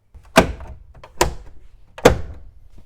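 A subwoofer cover pressed back into place in the rear cargo area of a Toyota FJ Cruiser, making three firm, close plastic thunks spaced under a second apart, with quiet between and no talking.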